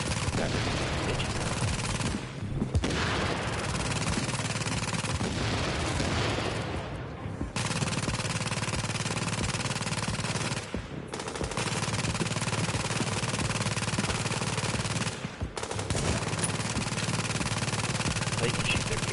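Sustained automatic gunfire from shooting in The Division video game, loud and nearly continuous with a few brief gaps between long bursts.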